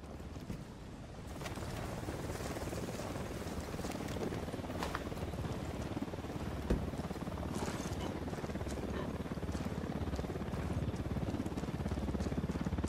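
A helicopter in Ghost Recon Wildlands drones as a steady, rumbling rotor wash with a wind-like roar, continuous and moderately distant, with scattered faint knocks over it.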